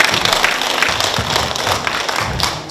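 Audience applause at a singing performance held in a community welfare centre in Geumcheon-gu, a steady dense patter of many hands clapping at close range, with no talk over it.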